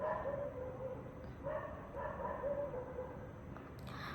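A dog barks and yips in a series of short, fairly faint bursts spread across the stretch, with a quiet room hum beneath.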